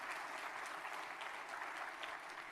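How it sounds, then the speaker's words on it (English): Audience applause for students at a university gathering, a continuous dense patter of many hands, fairly faint and even for the whole short stretch. "One more round of applause for these students."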